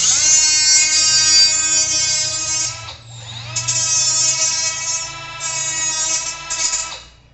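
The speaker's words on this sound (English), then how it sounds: "Now, I'm also beveling the edges." A Milwaukee power tool bevels the edges of metal tie-down rails in a garage, giving a loud continuous high-pitched whine with harmonic tones that dips briefly midway as the tool comes off the metal, then runs steady again.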